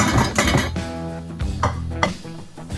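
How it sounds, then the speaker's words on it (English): A two-piece pan set down on an induction cooktop gives several close metallic clanks and rattles, with ringing tones between the knocks, loud and without talk. "Pan on the induction cooktop."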